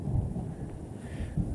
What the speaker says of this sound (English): the rumble of thunder isn't far behind it